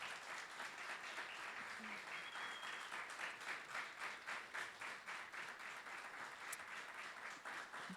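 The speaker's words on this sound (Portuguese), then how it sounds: "que você pudesse dar uma salva de palmas para essa equipe" Far-off applause from a church workshop audience honoring the organizing team, faint but continuous clapping with a loose rhythmic pulse running for several seconds, no talk on top.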